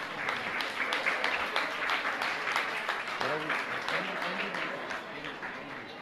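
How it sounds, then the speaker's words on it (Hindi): Sustained audience applause at a religious discourse gathering in India, dense and steady clapping filling the full stretch, with a few voices audible underneath. "आपकी तालियां सम्मान के रूप में निरंतर बजती रहनी चाहिए"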